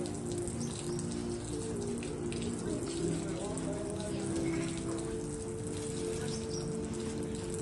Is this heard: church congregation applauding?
no